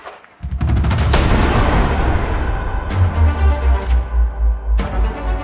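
An elephant gun fires a single very loud, close blast that booms out, followed by a long rumbling decay with pulsing low echoes.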